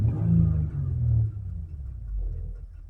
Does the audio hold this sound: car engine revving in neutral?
yes